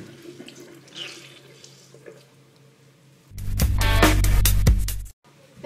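Warm water gushes loudly from a tap into a sink for about two seconds, then cuts off, following a stretch of quieter room sounds and faint handling noises.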